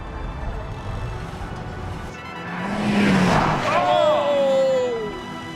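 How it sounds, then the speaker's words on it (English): A Volkswagen Beetle's engine roars and swells as its tires squeal in a rising, then falling screech while skidding around a corner, close and loud, with a voice talking underneath. "the car is scrabbling for its life"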